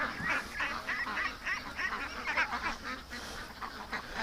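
A large flock of about a thousand ducks quacks and honks continuously while being herded from a swamp into a pen, a dense overlapping chorus of calls close by with no talking.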